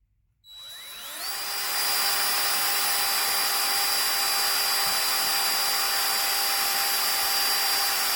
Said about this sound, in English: I'm going to start with a small drill bit, and then I'll use a bigger one